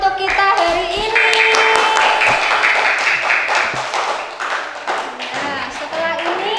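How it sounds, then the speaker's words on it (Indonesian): Applause in a primary school classroom, a steady dense patter of many small hands clapping for several seconds, loud and close, with children's voices mixed underneath. "Tepuk tangan untuk kita hari ini."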